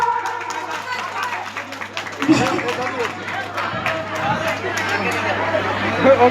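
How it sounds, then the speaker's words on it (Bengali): An audience bursts into applause for an elderly man at a Baul folk music gathering: dense, steady clapping that swells in and continues over a murmuring crowd. "দাদুর জন্য সবাই একবার হাতে তালি দাও তো"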